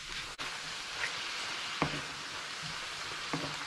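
Mushrooms cooking down in a frying pan for Salisbury steak give a steady, close sizzle with a few sharp pops and crackles, and nobody speaks.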